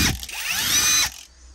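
A Hyper Tough 12V Gen II cordless impact wrench runs in one loud, close burst of about a second, with a fast rattling hammer over a rising motor whine, then cuts off to near silence.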